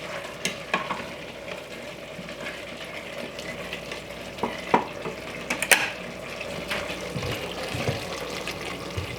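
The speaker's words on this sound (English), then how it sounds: "you can hear how crunchy my bread is" Crunchy toasted gluten-free bread being stirred into a sausage and mushroom stuffing with stock in a hot pan, giving scattered crisp crackles and scrapes over a soft, steady sizzle.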